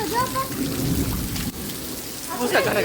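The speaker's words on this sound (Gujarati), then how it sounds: "કાકા ભરાકા વરસાદ ચાલુ થઈ ગયો" Steady rain pours down while low thunder rumbles through, with a brief dip midway and a sharper crack toward the end.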